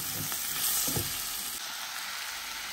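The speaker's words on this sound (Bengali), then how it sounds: "দি দিলাম করলা আর আলু, দে নাড়া" Bitter gourd and potato fry in a pan with a steady hiss, while a few low scraping stirs of a spatula come through in the first second before the sizzle carries on alone.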